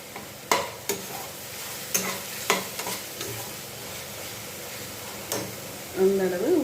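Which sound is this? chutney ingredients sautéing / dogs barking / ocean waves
chutney ingredients sautéing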